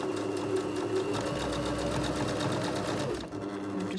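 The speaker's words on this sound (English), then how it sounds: "I'm going to line it up again and do some reinforcement stitches this time" A sewing machine runs a reinforcement seam, guided along the edge of the presser foot beside an earlier seam. It whirs steadily and close up with a fast even stitching rhythm for about three seconds, then the motor slows and stops.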